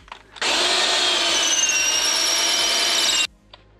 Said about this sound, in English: What I'm gonna do is drill a hole all the way through it.